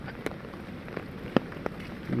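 Rain patters steadily on a surface, a soft constant hiss broken by a few scattered louder drops.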